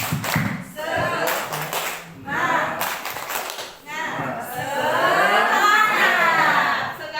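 Children doing the rhythmic spirit clap at school, with bursts of patterned clapping between loud chanted voices and an adult leading, all close and lively.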